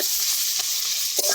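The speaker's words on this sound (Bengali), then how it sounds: "এবার ভালো করে একটু ভেজে নেবো টমেটোটা পেঁয়াজের একসাথে।" Onion and tomato frying together in a pan with turmeric, a dense, steady sizzle held close and loud, with faint stirring knocks underneath and no voices.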